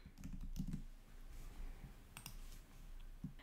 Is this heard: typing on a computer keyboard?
yes